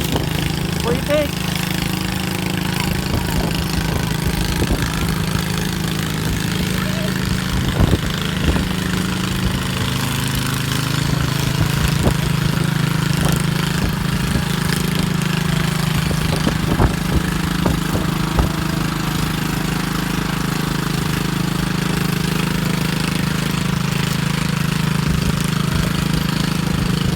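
Modified Cub Cadet lawn tractor engine roaring steadily at a farm lawn tractor pull event, a loud continuous drone with sharp knocks and clatters throughout and voices talking faintly in the background.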